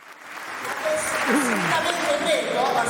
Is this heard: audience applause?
yes